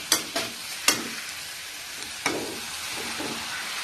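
Pineapple pieces and rice being tossed together in a frying pan for pineapple fried rice, a soft steady sizzle broken by a few sharp spatula scrapes and knocks near the start and middle, with no talking.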